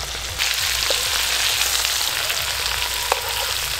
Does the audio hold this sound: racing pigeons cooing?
no